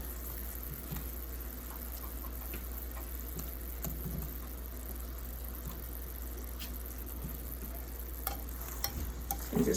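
Banana slices simmer in a brown sugar sauce in a pan over low heat, a steady gentle sizzle and bubbling with occasional soft ticks, alone without talk.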